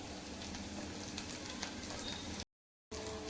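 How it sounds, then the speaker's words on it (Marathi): Chopped green chilies fry in hot oil with cumin and garlic in a pan, giving a steady soft crackling sizzle that drops out briefly near the end before resuming. "मिरच्याही आपल्याला 2 मिनटं तेलात परतून घ्यायच्या आहे"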